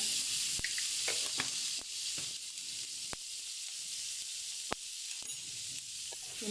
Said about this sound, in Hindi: ये देखें, अब इसमें डाल दूँगी मैं जीरा। 1 टेबल स्पून जीरा जाएगा, साबुत जीरा।